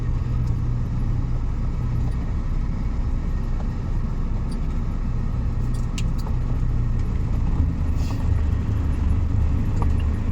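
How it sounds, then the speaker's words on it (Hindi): A car engine rumbles low and steady at slow speed as the car reverses during driving practice, with a faint click now and then over the continuous hum. "देख लिया कि गाड़ी बैक हो रही"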